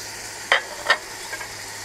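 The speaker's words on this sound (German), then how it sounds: "Die Zwiebeln kommen dazu." Onions go into a frying pan with browned crumbled mince for a kohlrabi stew, a soft sizzle marked by two sharp close scrapes of the spoon and a fainter one after, nobody speaking.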